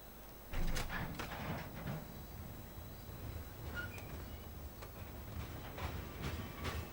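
A train rolls past in the Farming Simulator 2015 game, a steady rumble of wheels with faint rhythmic clacks and squeaks starting abruptly and continuing at moderate loudness, no voices.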